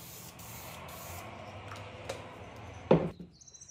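Lacquer sprayed from an aerosol can onto MDF, a steady soft hiss with a few brief pulses early on, followed by a sharp knock and small clicks near the end, close by and without speech.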